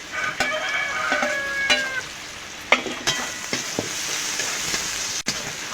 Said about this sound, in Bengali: আদা বাটা দিয়ে একটু ভাজা ভাজা করে নিয়েছি